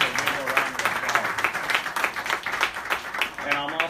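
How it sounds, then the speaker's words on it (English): Audience members at a policy briefing on federal tax reform for Puerto Rico clap in scattered, distinct claps of moderate loudness, with a voice speaking over them at times. "So give her a round of applause."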